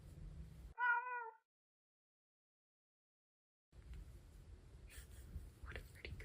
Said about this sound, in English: This is my kitty Piper